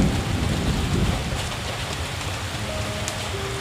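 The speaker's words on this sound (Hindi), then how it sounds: "गांव में भी बहुत भयंकर बारिश हो रही थी।" Steady, heavy rain hisses continuously across the whole stretch, with a low rumble underneath and no voices.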